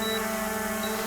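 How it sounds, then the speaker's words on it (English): A steady electronic tone from a DJI Mavic Air 2 drone with faint high warning beeps at the start and end, constant and fairly quiet, no voices. "we're getting red flashing and we're getting this beeping"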